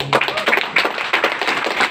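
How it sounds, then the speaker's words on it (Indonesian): An audience at a coffee demonstration breaks into brief, scattered applause, a short burst of claps close by with no voices over it. "Tepuk tangan Bapak Ibu."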